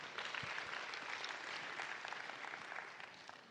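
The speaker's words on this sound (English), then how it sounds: "Give a hand of applause." Audience applause at a conference on development finance in Africa: a steady wash of clapping from a crowd that holds at an even level and fades slightly at the end.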